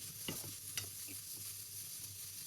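Fish cooks in gravy in a pan with a faint bubbling sizzle. A few soft stirring scrapes and taps come early on, quiet and close, with no voices.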